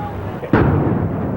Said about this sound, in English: Hours after the attack, many smaller explosions rumbled through downtown.